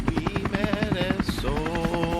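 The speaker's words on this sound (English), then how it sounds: "how about the ceiling fan helicopter?" A toy ceiling fan helicopter spins with a loud, rapid rhythmic chopping whir close by, its pitch wavering as it turns, with faint voices in the background.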